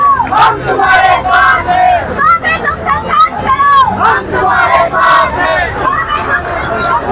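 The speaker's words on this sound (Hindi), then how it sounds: "धीरे धीरे भीड़ बढ़ रही है, एक के बाद एक बसें गाड़ियां यहाँ पहुंच रही हैं" A large crowd gathers at an election rally for Bobby Panwar in India, with loud chanting and cheering voices rising and falling in waves, close and continuous, with overlapping shouts throughout.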